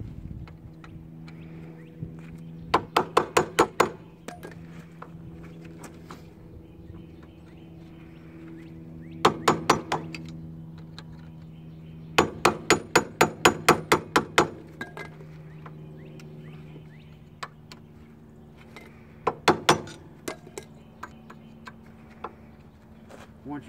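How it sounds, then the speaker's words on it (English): A screwdriver wedged into a 2001-2005 Honda Civic rear wheel hub is hammered in several bursts of sharp metallic blows, close and ringing, with pauses in between over a low engine-like hum. "to get to the spindle nut you have to wedge a screwdriver between them two things and beat it"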